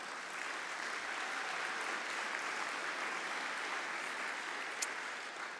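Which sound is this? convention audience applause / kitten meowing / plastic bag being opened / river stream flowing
convention audience applause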